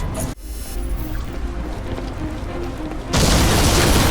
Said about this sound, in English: We have a secondary explosion at the church.